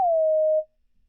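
A sine wave from the free Vital synth is shaped by a fast ramp-down LFO on pitch. It gives a quick drop at the attack, then a steady tone for about half a second before cutting off, clean and alone.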